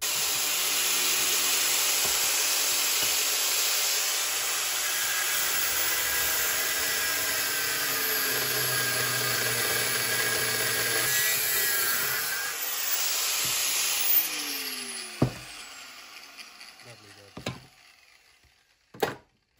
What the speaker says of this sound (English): Grinder out, cut that off.